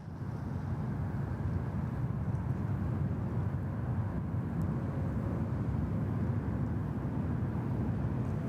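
A United Boeing 777 arriving at Sydney Airport from San Francisco, a continuous low engine roar at a distance with a steady rumble and no voices.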